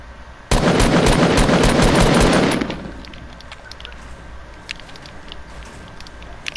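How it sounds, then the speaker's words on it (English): Video game gunfire: a loud, dense burst of rapid automatic shots lasting about two seconds, followed by scattered faint clicks and pops over a quiet background. "Can you stop shooting at me?"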